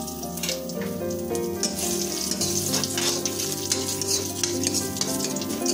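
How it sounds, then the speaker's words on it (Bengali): Whole cumin seeds, bay leaves and two dry red chillies sizzle and crackle in hot oil for a cabbage chorchori, a steady close frying hiss with light stirring and clinks throughout, no voices. "তার জন্য আমরা ফোড়নে যোগ করব 1 চা চামচ গোটা জিরে, তেজপাতা আর যোগ করব"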